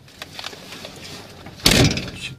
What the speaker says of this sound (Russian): Открой дверь.